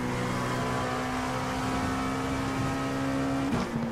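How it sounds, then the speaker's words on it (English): A diesel race car at Talladega, a steady loud engine drone with a strong low hum throughout and a short rise near the end, heard from close by. "A diesel race car."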